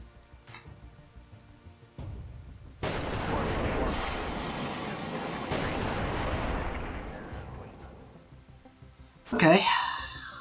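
SAM missiles launching at Flogger jets in the strategy game Command: Chains of War: a sudden loud roaring rush swells and holds for several seconds, then fades, followed by a sharp burst near the end, over quiet background ticking.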